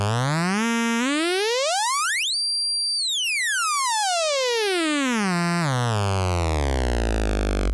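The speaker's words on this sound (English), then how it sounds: "by turning the shape knob, you can adjust the shape of the waveform to this spiky triangle wave." Synthesizer oscillator set to a spiky triangle waveform, a bright buzzy tone sweeping steadily upward to a high peak, then gliding back down and settling low, heard alone.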